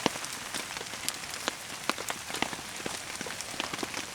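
Rain patters steadily on a surface during a winter hammock camp, with dense, irregular drops ticking close by throughout and no talking.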